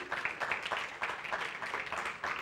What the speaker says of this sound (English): please let's thank him with the applause